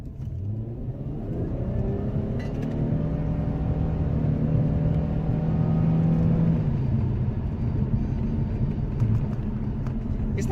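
A Nissan Cedric 3.0 V6 turbo accelerating under load, its engine a steady, loud mid-range drone with rising harmonic sweeps, heard from inside the car without pause.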